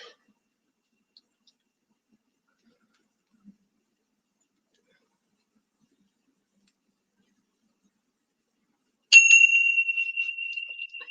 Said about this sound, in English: Let's do our bell.